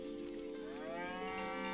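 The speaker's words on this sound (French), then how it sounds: "on peut traire des vaches, incroyable" A cow in a video game trailer gives one long, rising moo over a steady soft background, with no talk.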